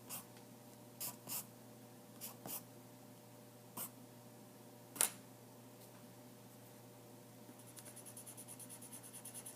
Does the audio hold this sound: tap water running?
no